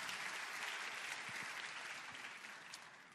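A church congregation applauds together in a steady, dense wash of clapping that holds evenly throughout and eases slightly near the end, heard from within the crowd.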